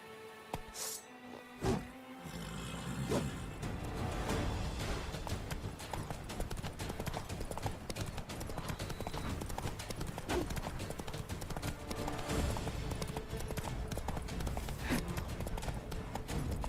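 A horse gallops in The Witcher 3: Wild Hunt video game, with fast, steady hoofbeats that run without a break over dense in-game ambience. The hooves stay close and loud throughout.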